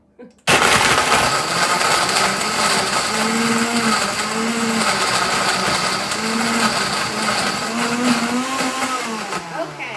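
A countertop blender crushes ice for a frozen gin and jam cocktail, starting abruptly and running as a loud, steady close whir with a low wobbling pitch. It slows near the end, and a voice speaks briefly just before it starts.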